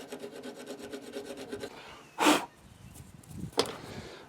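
Rasping scrape of old gasket material being removed from a Craftsman EZ Start lawn mower carburetor, first as a steady rhythmic series of strokes, then two louder isolated scrapes, close and fairly quiet.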